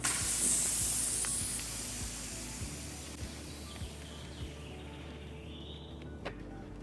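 A pump pushes air into a tubeless bike tire, giving a sharp hiss at the start that quickly fades into a softer, steady rush of air, with a few faint clicks and taps.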